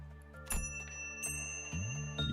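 High, clear bell chimes ring out several times with bright sustained overtones, invisible within a containment unit in the game Limbus Company, close and distinct with no talk.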